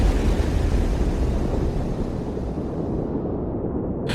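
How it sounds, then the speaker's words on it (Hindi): A huge explosion rumbles in a Hindi horror folklore tale, a long, deep roaring blast with a thick low-end wash that slowly decays over several seconds before cutting off abruptly, loud with no talk. "एक जबरदस्त विस्फोट हुआ।"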